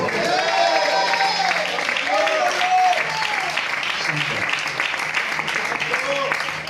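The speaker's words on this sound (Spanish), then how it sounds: "No me aplaudan así, que me lo voy a creer." An audience at a religious sermon applauds steadily with cheering, a dense sustained wash of clapping while the preacher keeps talking over it.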